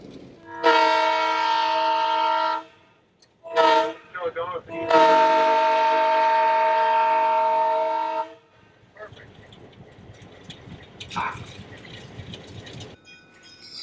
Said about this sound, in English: given the job of blowing for a crossing as the train backs up the line